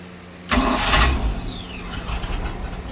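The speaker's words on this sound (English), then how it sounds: "Let's try that starter one more time, y'all." A Mercruiser boat engine starter on a Stingray cuddy cranks with a sudden loud whir after a quiet lead-in, then settles into a faint whiny spinning that fades under steady background noise.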